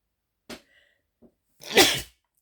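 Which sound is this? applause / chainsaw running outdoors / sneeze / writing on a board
sneeze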